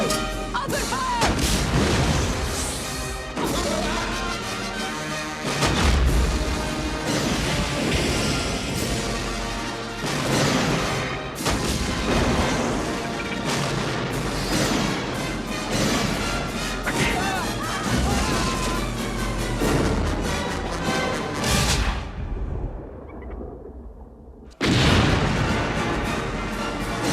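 Cannon fire during a battle in the 1995 pirate film Cutthroat Island: repeated loud booms and crashes follow one another over a dense, continuous battle din, with voices shouting at times, then a brief near-silence before the noise returns.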